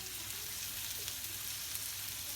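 Potatoes and cauliflower with a pinch of turmeric fry in a pan, giving a steady, soft sizzle throughout with no voices.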